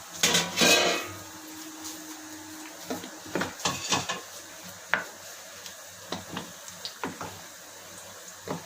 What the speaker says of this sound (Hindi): अब इसको ढकना उतार लेते हैं।